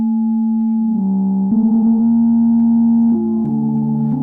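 Dreadbox NYX 2 analog synthesizer with its filter in bandpass mode, holding tones with two distinct harmonics that shift in steps between a few pitches, steady and electronic with no talking.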